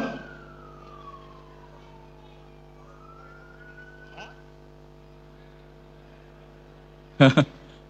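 A fire engine siren sounds outside a hall, a distant wailing tone sliding downward and then rising again under a steady low hum, followed near the end by two sharp loud knocks close by.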